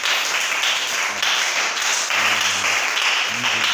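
A church congregation applauds the Lord, steady crowded clapping filling the room throughout, with faint voices mixed into the applause.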